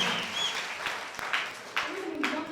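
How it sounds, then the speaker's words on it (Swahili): A church congregation claps in thanksgiving: a steady wash of applause runs throughout, with a few sharper individual claps and voices calling out over it. "Jamani watia Bwana makofi mazuri ya shukrani."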